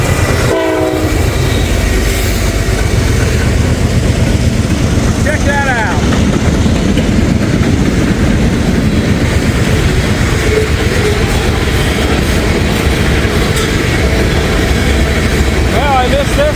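A long freight train hauled by short line locomotives rolls steadily past up close, wheels and cars rumbling continuously, with a horn sounding as it goes by and someone talking briefly over the noise.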